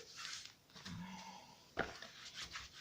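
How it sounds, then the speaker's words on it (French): Paper is rubbed and smoothed flat onto a surface by hand while crafting an earring storage album, giving soft close scraping strokes and a brief sharper rub, quiet and without talk. "je viens maroufler"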